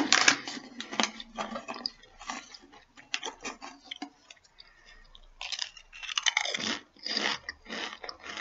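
Tangy Buffalo Wing Pringles chips are crunched and chewed up close, a series of crisp irregular bites and chewing crackles with a short quieter pause midway, and no talking.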